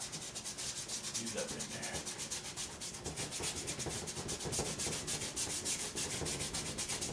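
A dry brush scrubs paint back and forth across canvas in a steady, close, rapid rhythm of rough rubbing strokes that runs throughout, with a brief spoken phrase.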